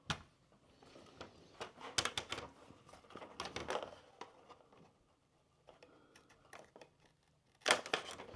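Sharp scissors snip through the connector loops of faux wood blinds, producing several crisp, close clicks at irregular intervals, with quiet pauses between cuts and no talking.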